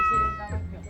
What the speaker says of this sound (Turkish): Nereden geliyor bu kedi sesi acaba?